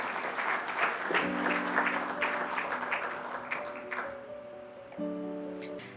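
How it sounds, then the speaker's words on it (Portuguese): A church congregation at a Quadrangular service applauds in praise to the Lord, with a burst of clapping that fades beneath sustained keyboard chords entering early and swelling again near the end. "Dê uma salva de palmas ao Senhor."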